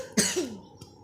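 A single close, sharp cough from a man, followed a moment later by a short, fainter throat sound, in an otherwise quiet room.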